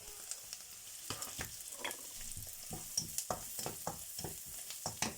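Garlic frying in hot oil in a pan for fried rice, a steady crackling sizzle broken by repeated stirring scrapes and clatters, close and moderately loud with no voices.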